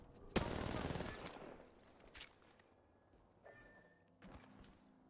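Gunfire in the battle royale game Apex Legends: one loud burst of shots up front, then scattered fainter pops and thumps, with a voice speaking briefly between them.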